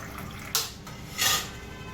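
Drinking water is poured from a clay matka pot in two short splashing bursts separated by a pause, close and moderately loud over a faint background hum.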